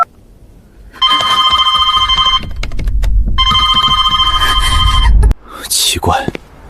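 A telephone rings in an animated story, two long bursts of shrill electronic ringing separated by a short pause, loud and close, followed by a brief clatter.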